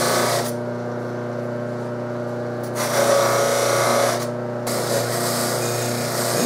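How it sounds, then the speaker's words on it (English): A buffing wheel polishes a brass slide trumpet while cleaning off solder mess, giving a steady, loud motor whine with a constant hum that swells as the brass presses against the wheel. "not to lose the instrument to the buffing wheel"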